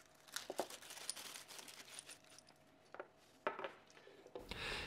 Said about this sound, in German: Ich nehme mal alles aus der Verpackung.